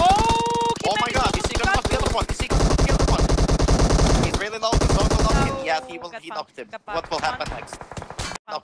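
Gunfire in the PUBG Mobile video game during an esports tournament match: rapid automatic bursts and repeated single shots, loud and dense, then scattered sharper cracks, with commentators talking over parts.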